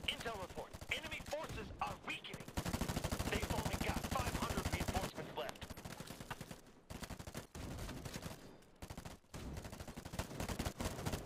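Rapid bursts of gunfire in the video game Fire Front rattle almost continuously, with brief pauses between volleys, loud and close.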